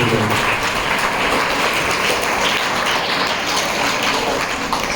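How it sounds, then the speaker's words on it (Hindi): An audience at a school farewell for a manager and principal applauds, giving a dense, continuous wash of clapping with little talk. "जोरदार तालियां बजा के उनको थैंक यू बोल रहा हूँ।"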